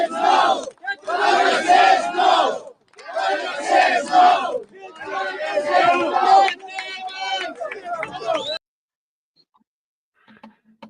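An outdoor rally crowd in Ireland chants and shouts in loud, rhythmic bursts separated by short pauses, the massed voices falling silent near the end.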